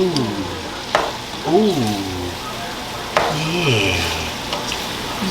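Food sizzling in a pan while being stirred at home dinner cooking, soft continuous frying hiss with a few sharp scrapes and clacks of a utensil, pitched musical tones and faint voices drifting in the background.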